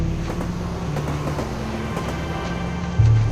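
Steady low rumble of a train approaching on the track, dense rolling noise with faint rhythmic clatter that swells louder near the end, played as a sound effect in a jungle horror story.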